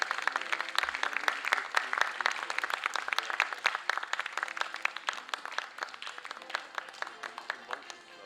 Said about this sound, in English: Please give them a big round of applause for their efforts in getting into the final contest among hundreds of contestants